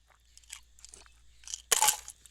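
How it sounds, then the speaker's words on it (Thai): Ice cubes chewed on a hot day in farm fields, heard up close as several small brittle crunches and then one loud, sharp crunch near the end. "เราต้องมาเคี้ยวน้ำแข็งเนี่ย"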